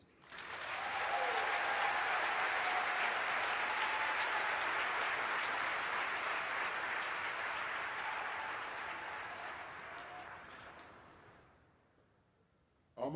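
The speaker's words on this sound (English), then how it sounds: "if I can please get your warm round of applause for the Honorable Elihu" Warm audience applause for Elihu Harris at a lecture series event, a sustained dense clapping that swells quickly, holds steady for about ten seconds, then fades out.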